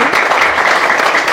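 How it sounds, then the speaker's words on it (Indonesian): Dense, energetic applause from a church congregation, many hands clapping loudly and continuously with no clear pauses. "Di sini diberikan kebebasan untuk tepuk tangan"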